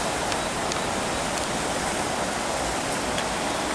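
Small waterfall in a town by a pond with swans and ducks, a steady, even hiss of falling water with no pauses, moderately quiet and close.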